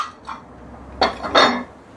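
Handmade ceramic pottery cereal bowls, fresh from the kiln, clink against each other in two or three close, bright knocks, with a softer tap before them.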